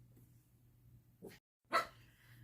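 A dog indoors gives two short, sharp barks a moment apart, moderately close in an otherwise quiet room.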